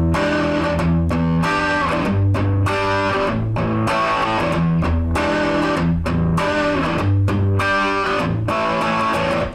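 Distorted electric guitar strumming a chord in a basic rhythmic pattern, loud repeated chord stabs with short gaps between them, played alone.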